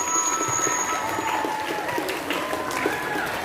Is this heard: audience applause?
yes